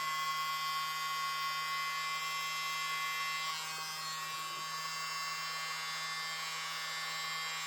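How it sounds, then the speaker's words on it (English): A small electric blower drying paint runs steadily throughout, a thin high-pitched motor whine and airy hiss with a low buzzing hum underneath, close and even in level, with no voices. "I got my little blower."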